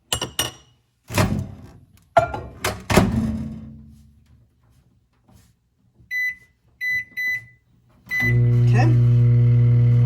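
A microwave oven heating candy melts: a few hard thunks of the door and handling, a single spoken word, then three short electronic beeps followed by the steady loud hum of the oven running.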